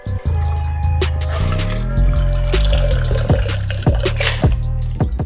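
A bartender pours liquid from a bottle in a steady, continuous stream with dripping and splashing accents, close and fairly loud over background music.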